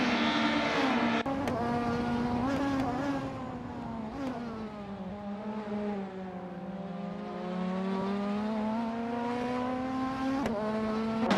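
Racing cars in a video game race, including a Nissan Primera P10, with a steady engine drone that slowly shifts pitch. Brief revving bursts and passing sweeps stand out, and no one speaks.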